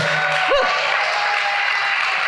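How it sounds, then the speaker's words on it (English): An audience at a recovery-themed show applauds steadily, a dense wash of clapping that stays even throughout, with a brief whistle-like tone near the start. "give Mark another round of applause"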